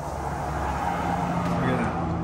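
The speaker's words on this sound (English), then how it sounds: "Let's wait for a car to come by." A car on a main road passes beside an RV park model home with the windows open, a steady rising and fading tire and engine rumble at moderate distance, with people talking.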